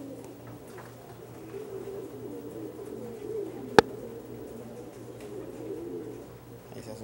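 Pigeon cooing as the bird is being caught, a low steady murmuring coo running throughout, broken by one sharp loud click midway.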